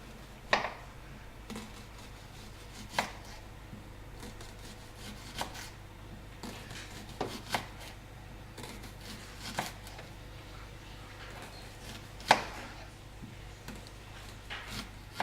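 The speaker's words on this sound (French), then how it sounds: "Nous allons émincer l'oignon." Knife slicing an onion on a board, soft irregular chopping taps spaced a second or two apart over a quiet room hum.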